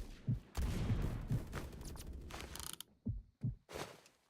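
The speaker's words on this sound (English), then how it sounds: "They say shotguns only work up close." Shotgun fire in a video game: several sharp, booming blasts arrive in irregular bursts, a tight cluster early on and a few spaced shots later, with faint mechanical clatter between them at fairly low overall volume.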